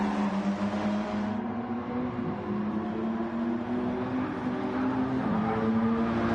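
Rally cars in a racing video game, a Subaru and a Nissan GTR among them, hold a steady, loud engine drone with sustained revving throughout, several motors blending together without any break.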